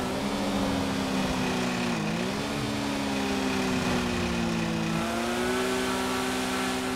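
Steady engine drone of a Lamborghini Sian supercar cruising slowly in GTA 5, continuous and close with gentle pitch dips as the revs shift, no voices.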